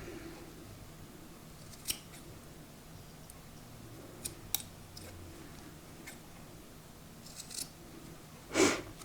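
Small scissors snip off thread fuzz from a mini tassel, a few faint scattered clicks and light snips, ending with one louder close cut.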